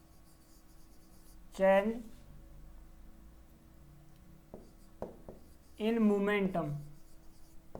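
Writing on a board during a physics lecture on the first law of motion, with a few brief scratchy strokes in the middle between bursts of a man's lecturing speech.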